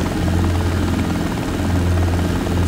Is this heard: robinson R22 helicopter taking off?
yes